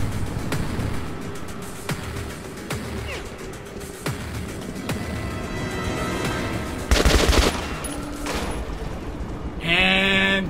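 Gunfire in Metro 2033 Redux, a post-apocalyptic shooter game: a series of sharp, loud shots cracks out at irregular intervals, followed by a heavier burst and crash near the end.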